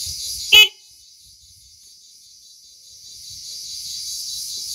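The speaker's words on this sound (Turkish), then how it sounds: "kornamız." A Yuki YK 200 ATV horn gives one short, loud, close beep, followed by a low, steady background hum.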